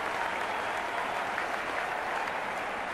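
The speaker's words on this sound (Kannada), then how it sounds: "ಅವ್ರಿಗೊಂದು ಚಪ್ಪಾಳೆ ತಟ್ಟಿ ನೀವೆಲ್ಲ" Sustained applause from a live audience at a Kannada comedy show in Tumakuru, steady dense clapping filling the whole stretch with no voices on top.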